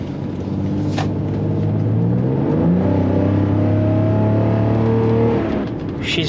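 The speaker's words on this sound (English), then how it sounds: "I'm just taking it for a quick spin around the block." A 2JZ-engined car out for a spin around the block, its engine droning and rising through revs as it drives close by, steady and fairly loud with no talk.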